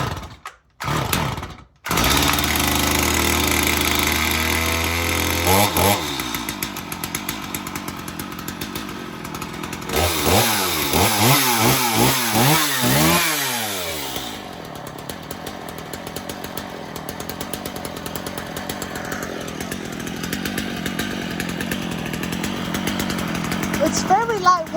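A chainsaw runs after a cold start and off choke, sputtering and revving in uneven bursts before settling into a steady idle, loud and close, with a person talking at times.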